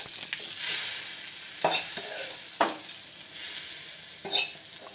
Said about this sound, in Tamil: பொரிஞ்சினோடனே நம்ம சட்னியில் அதை ஊற்றிக்கிறோம்.